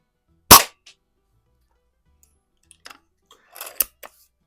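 A 126-year-old Eisenwerke Gem No.13 air gun is fired at a paintball in a garage: one sharp, loud crack near the start, followed by scattered faint clicks and a small cluster of light pops near the end.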